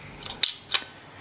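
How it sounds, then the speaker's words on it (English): Two crisp mechanical clicks from the shutter of a Debonair 120 film camera, close and quiet, about a third of a second apart, with no talk over them. "shutter sounds really cool"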